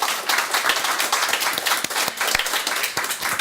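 Audience applause after a presentation at a humanist community forum, a steady, dense patter of many hands clapping at moderate loudness from start to finish.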